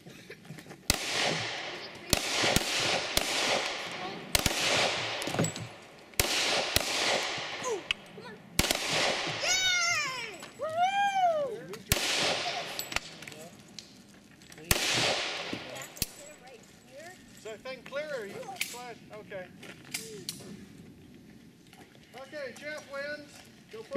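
Gunshots from shooters at an outdoor shooting range ring out as loud, sharp single reports spaced a second or two apart. Voices talk between and over the shots.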